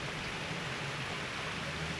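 Steady rain falling outdoors, a soft continuous patter and hiss with no distinct drops standing out, fairly faint and unbroken throughout.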